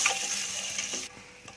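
Eggs fry with masala in oil for egg biryani: a steady, hissing sizzle with light stirring scrapes, close and even, fading slightly toward the end, no speech.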